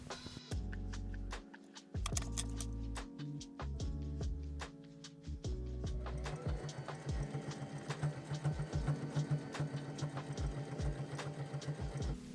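A regular home sewing machine runs a zigzag stitch on a short sleeve top. It gives rapid, rhythmic mechanical pulses in close, stop-start bursts, then a longer steady run, with no voices.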